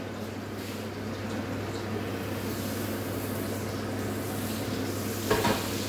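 Butter melting in a pan with herbes de Provence for a grilled ham and mushroom pie gives a steady, soft sizzle throughout, with a brief louder clatter near the end.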